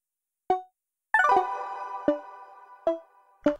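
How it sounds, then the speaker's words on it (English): Synth oscillator A layered with its sub-oscillator, giving plucky tones a fuller low end: a few separate notes, a quick bright run that rings out, then more spaced single hits, dry and close with nobody speaking. "This is it with the sub-oscillator."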